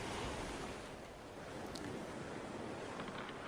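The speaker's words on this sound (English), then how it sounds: ""Abandon ship," shouts Huerta as his ship sinks into the ocean" Ocean waves wash and rush around a sinking ship, a continuous loud broadband surge with no separate breaks, and no talk.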